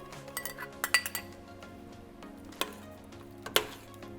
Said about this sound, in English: we're gonna take it off the heat and stir in our fresh dill